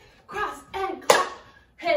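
A single sharp hand clap lands in the middle of a kids' hip hop dance routine, set between bursts of an instructor speaking step cues, close and fairly loud.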